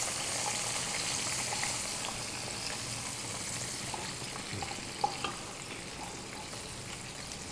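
Chopped tomatoes fry in a pan as they are stirred, a soft continuous sizzle broken by occasional scraping and a couple of light clicks.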